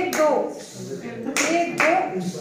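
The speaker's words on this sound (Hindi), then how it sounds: "रॉकेट ताली एक दो, एक दो, एक दो," A group performs a rhythmic 'rocket clap' at a teachers' workshop, with sharp hand claps landing in a quick counted pattern while a voice chants over them.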